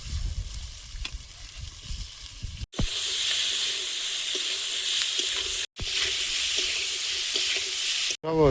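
Cumin powder and raw tomatoes fry in a hot pan, with a loud, continuous hissing sizzle that surges as the ingredients go in and briefly cuts out a few times.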